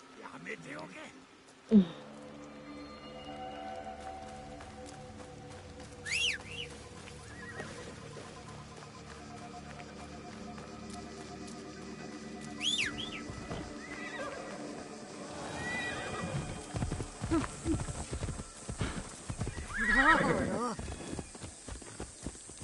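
Horse hooves clip-clop and a horse whinnies a couple of times over a steady droning background, with a voice speaking in places, in the video game Assassin's Creed Shadows.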